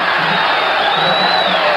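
A boxing crowd on its feet cheers loudly, a dense continuous roar of voices with whoops and a rising whistle threading through, steady for the whole span.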